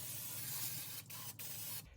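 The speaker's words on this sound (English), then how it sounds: "we're going to take some cooking spray and we're going to spray them down" Cooking spray hisses from a can onto a baking tray, a steady close spray broken by two or three short pauses between bursts, alone without talk.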